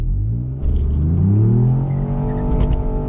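A Ford Fiesta ST engine revs hard for a standing launch with traction control fully off. A loud, close, rising drone swells and holds, with a few brief high chirps near the end.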